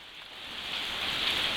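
Steady rain pouring from thunderclouds, a dense hiss that builds slightly in loudness and continues without pause.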